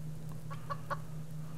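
Chickens cluck softly several times in the survival game Subsistence, a few short calls close together over a steady low hum.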